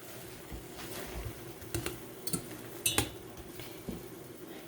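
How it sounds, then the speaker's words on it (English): A spatula clinks and scrapes against a saucepan while a grilled cheese sandwich is flipped, with a few sharp metallic taps over a soft, steady background hiss. "Let's flip our sandwich"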